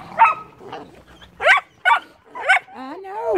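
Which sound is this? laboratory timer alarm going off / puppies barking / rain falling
puppies barking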